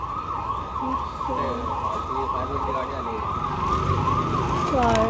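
A fire brigade truck's siren wails in a steady, repeating rise and fall, loud and fairly close, with a second whooping tone joining near the end over road noise.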